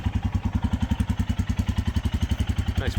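A 2022 Royal Enfield Himalayan motorcycle idles steadily after the choke is released, its single-cylinder engine giving a close, even, rapid popping exhaust beat with a faint mechanical clatter.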